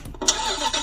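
A children's Toymax ride-on dumper truck is switched on and plays an electronic engine-start effect, a short revving burst heard close and clear.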